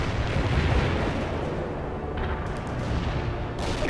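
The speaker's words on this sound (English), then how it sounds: "Delivering a range of shells at target coordinates." In the video game World in Conflict, artillery shells explode in a dense, loud, continuous rumble of blasts and booms with no clear pauses.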